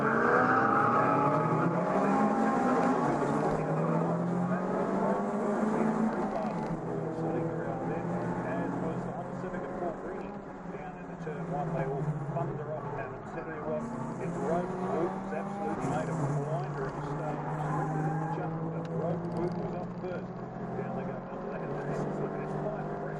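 Race cars start a race at Hampton Downs, a loud blend of engines revving and droning as the field pulls away, under continuous commentary.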